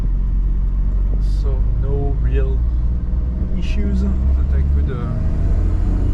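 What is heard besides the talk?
1996 Suzuki Jimny driving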